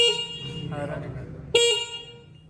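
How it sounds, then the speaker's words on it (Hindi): A short, bright horn honk from a Honda Benly e electric scooter blares at about the midpoint, preceded by a softer tonal toot, over steady engine and background noise. "हॉर्न की आवाज़ भी आपने सुनी।"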